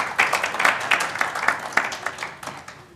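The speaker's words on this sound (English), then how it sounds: "a big round of applause for Shri K. Kalumuthu" Audience applause at a sustainability forum as a speaker is welcomed, a steady round of clapping from a crowd that holds fairly even before slowly tapering off.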